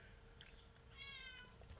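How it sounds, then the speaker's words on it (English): A pet cat gives a faint meow in the background of a low, steady room hum. "you might be hearing meowing"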